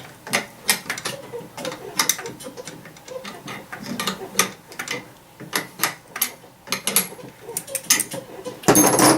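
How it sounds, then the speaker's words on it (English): A ratchet clicks in quick irregular bursts as pedals are tightened onto a Go Glider balance bike, close and fairly loud, with a brief louder rustle at the end and no speech. "Just finishing up tightening these pedals and get them on there nice and tight."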